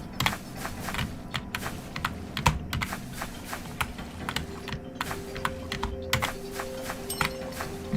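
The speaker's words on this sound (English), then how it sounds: "Why does my keyboard sound like that?" A Redragon computer keyboard clatters under fast gaming play, with irregular bursts of crisp, close key clicks over a low game soundtrack.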